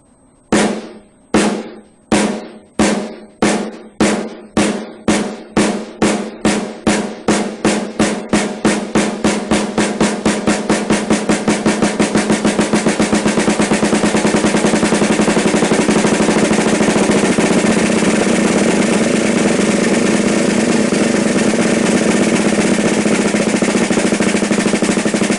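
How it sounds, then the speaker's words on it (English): Snare drum long roll played open to closed to open: widely spaced single strokes quicken steadily into an open bounce, then merge into a dense, sustained buzz roll that holds loud and even to the end, with no voices. "The components of the long roll played open,"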